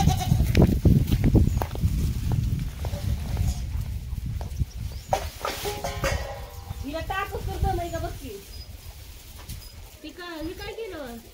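Two goats bleat at a rural Maharashtra farm while being fed, with several wavering bleats in the later half following rustling and handling noise, and people talking nearby.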